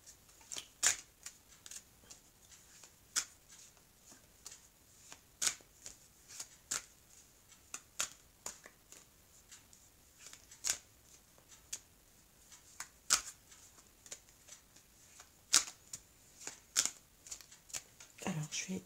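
A deck of oracle cards being shuffled and cut by hand, a steady run of crisp, close riffling snaps and flicks spread through the whole stretch, with no talk over them.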